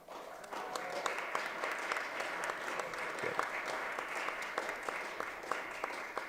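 Audience applause at a membership meeting, a sustained patter of many hands clapping at moderate distance, fairly quiet and steady with a few sharper individual claps standing out.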